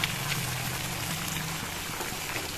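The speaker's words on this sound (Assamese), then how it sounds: "উতলিবলৈ ধৰিছে।" Water with eggs for a curry boils in a covered pot, a dense, even bubbling hiss that stays constant and close throughout.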